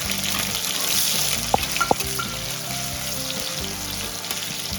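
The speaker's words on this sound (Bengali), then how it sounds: "তেজপাতা ফোড়নে দিয়ে দিলাম, পেঁয়াজটা দিয়ে দিলাম।" Bay leaf and onion frying in hot oil make a dense, continuous sizzle, close and fairly loud, with two short clicks early on and light crackling throughout.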